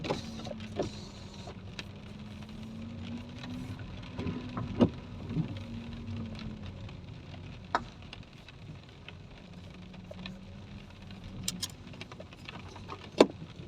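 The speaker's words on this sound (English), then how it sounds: "it's really raining here" Rain patters steadily in a car park with scattered sharper drips and taps, alongside a low mechanical hum that rises and falls.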